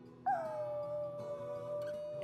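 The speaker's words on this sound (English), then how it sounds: "we made a recording of him howling, and then we played that recording back to him" A dog howls alone in a long, sustained wail that holds steady and close, with a faint second voice or echo swelling near the end.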